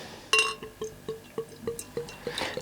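Fortuna Lager Hell, a light German lager, is poured into a glass: a clink at the start, then a run of soft regular glugging pulses with a fizzy hiss building near the end, close and fairly quiet with no talk.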